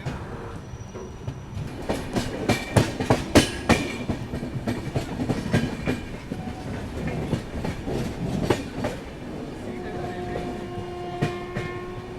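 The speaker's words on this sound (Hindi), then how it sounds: "पीछे देखो हटिया पुणे एक्सप्रेस आ चुकी है ओवरटेक करने के लिए हमें" Hatia Pune Express rolling past at Borgaon station, a loud rumbling rush with clattering wheel beats and brief squeals, heard close and alongside light talk.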